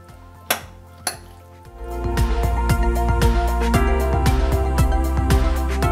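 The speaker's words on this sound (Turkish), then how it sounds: "Salatamızın sosunu ekleyeceğiz. Karıştıralım." A wheat salad is stirred with its dressing in a bowl, opening with two sharp clinks before a continuous scrape-and-clatter of a utensil against the bowl repeats in quick, loud strokes.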